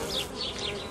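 Honey bees at a hive frame with emerging brood, a steady soft droning buzz close up, with no talking.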